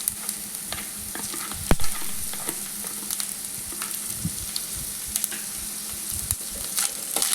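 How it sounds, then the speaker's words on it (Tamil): Ginger garlic paste sautés with golden brown onions in a pan, giving a soft, steady sizzle with frequent scraping stirs and light clicks, fairly quiet and close. "இது நல்லா வதக்கிட்டு"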